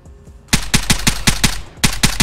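Rapid automatic gunfire in the video game Vigor: after a short quiet lead-in, two loud, close bursts of evenly spaced shots, about six per second, with a brief gap between them.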